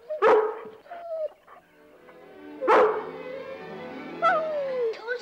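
A dog gives a few sharp, close barks and yips in two main bursts, with whimpering, whining tones drawn out between them and no talk over it.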